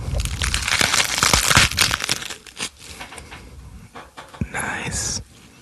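Crisp crunching and crackling from a knife cutting romaine lettuce, close and dense at first, then thinning into sparser cuts and rustles before a sudden stop.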